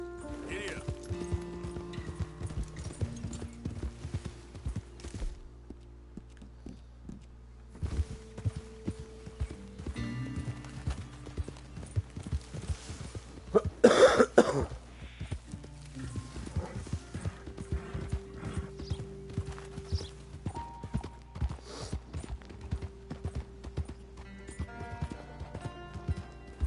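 A horse's hooves clip-clop steadily in the video game Red Dead Redemption 2, with a loud whinny midway, over a quiet musical score, while a voice speaks now and then.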